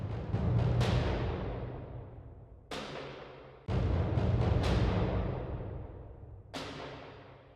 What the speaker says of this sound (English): that's where I brought in this cinematic percussion library,